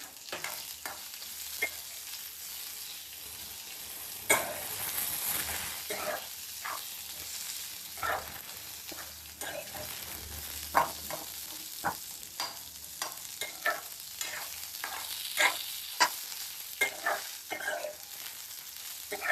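Chicken masala with sliced onion and coriander is stirred in a pan, soft sizzling under irregular spatula scrapes and taps that grow busier and sharper later on, close and moderately loud.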